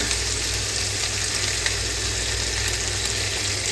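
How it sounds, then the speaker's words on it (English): Heavy cream is poured into a hot pan for a creamy chicken pesto sun-dried tomato pasta, giving a steady, close sizzle and frying hiss that holds evenly throughout with no talking. "And then we add heavy cream."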